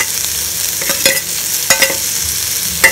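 Tomatoes and green chillies saute in a pan with ginger garlic paste for a restaurant-style poori masala, a loud close sizzle punctuated by several sharp spatula scrapes.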